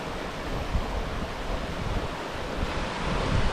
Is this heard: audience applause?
no